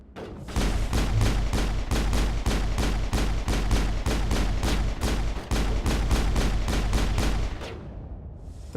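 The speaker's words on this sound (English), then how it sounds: "Someone's still shooting at me." Rapid, loud, continuous gunfire from the Mass Effect video game, a dense run of sharp shots hammering in steady rhythm for several seconds before cutting off.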